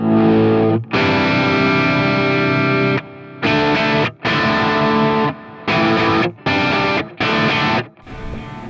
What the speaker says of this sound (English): I'm going to throw it onto my neck position and let you guys hear what the tone is without the pedal in